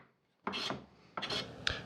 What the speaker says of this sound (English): I decided I'm going to manually shape the handles to try and make it round